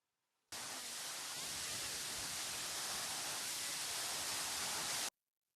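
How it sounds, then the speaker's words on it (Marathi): Water pours from above onto a temple in the scenic countryside of Khandi, a steady loud rushing hiss that starts abruptly and holds unchanged for about five seconds before cutting off, with no voices. "इथं वरतून पाणी येतं आणि असं पडतंय पूर्ण"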